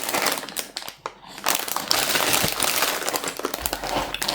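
Plastic bags from a retro building kit are crinkled, crumpled and torn open close up, a dense crackling rustle with sharp bursts and brief pauses.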